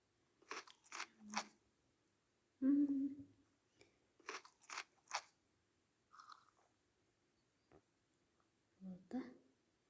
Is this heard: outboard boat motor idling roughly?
no